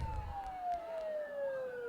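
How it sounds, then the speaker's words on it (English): A single wailing siren slowly descends in pitch, steady and moderately distant, over a low background rumble, in the video game Persona 4 Golden. "Don't those sirens sound really close?"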